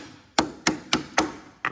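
A hammer taps five times on the auger of a Somero laser screed, in sharp, evenly spaced metallic strikes, loud and close with quick decays.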